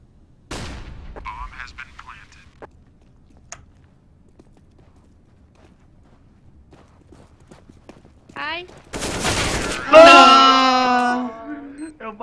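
Gunfire in a first-person shooter game, a few sharp separate shots spread across the stretch with long quiet gaps, ending in a louder burst of noise, and someone speaks briefly near the end.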